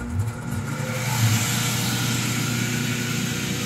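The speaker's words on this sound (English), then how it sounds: "There's the phase converter." A 20 horsepower phase converter running at a portable sawmill, close by, giving off a steady electrical motor hum with a low tonal whine and constant mechanical drone.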